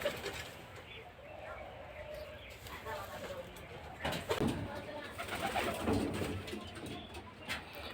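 Giribaz pigeon softly cooing in a low, rolling murmur, faint and somewhat distant amid background noise, with someone talking over it throughout.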